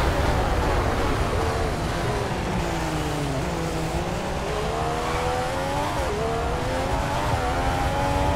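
A Formula 1 car engine screams through gear changes in an onboard replay of a China race in the F1 2015 video game, its pitch rising and dropping repeatedly with continuous, loud revving.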